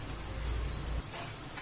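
Medu vada frying in hot oil, a steady close sizzle throughout with a brief clink partway through and no talking.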